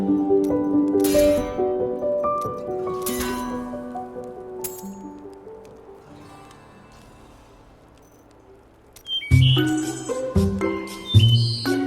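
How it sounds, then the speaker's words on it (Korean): Small birds chirping in the early morning, a scatter of bright tinkling calls with quiet gaps between them, followed by a denser burst of chirps near the end, close and clear. "이른 아침부터 부지런 떠는 새소리가 들려옵니다."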